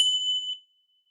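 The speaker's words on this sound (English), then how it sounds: "the tingshaws that I'm using" A single tingsha chime is struck during a meditation session: one bright, ringing metallic ding that sustains cleanly for about half a second before cutting off into silence.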